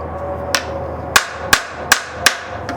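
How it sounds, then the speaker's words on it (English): A hammer taps a clinched nail flat against wood: five sharp, close metallic strikes at uneven intervals over a faint background, with no talking. "Now we can go ahead and keep tapping on that to flatten it out."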